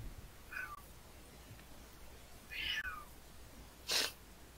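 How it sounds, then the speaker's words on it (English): A cat meows three times, with short, fairly quiet calls spaced about a second or more apart, the last one brighter and sharper, over a faint room hiss. "Cat has questions."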